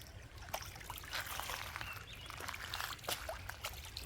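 Clear mountain stream water flows and trickles along a hiking trail, a soft, steady burble with small splashes, heard fairly faintly and with no one talking.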